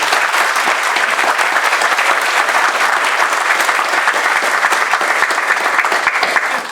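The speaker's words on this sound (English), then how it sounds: "Let's all please give a round of applause to our exhibiting artists and our graduating seniors." Sustained applause from a commencement audience for graduating art students and exhibiting artists, a dense, even wash of many hands clapping at steady loudness throughout, with no speech over it.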